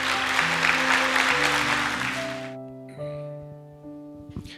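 A church congregation claps to welcome Pastor Jo Ji-hoon, a dense burst of applause under sustained keyboard chords that stops abruptly, leaving the organ tones ringing on alone.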